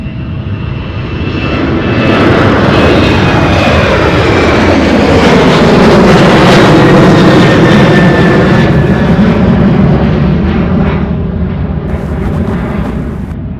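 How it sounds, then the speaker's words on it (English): A UPS MD-11 heavy freighter jet arrives at Louisville airport with a loud, sustained engine roar that swells and sweeps in pitch as it passes close by, then slowly fades. "the MD-11 coming in"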